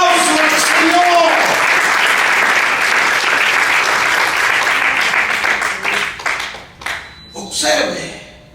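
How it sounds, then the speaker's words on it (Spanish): A church congregation bursts into sustained loud applause, a dense wash of clapping filling the room before thinning out into scattered claps near the end, with voices heard over the start. "Denme un aplauso al Señor"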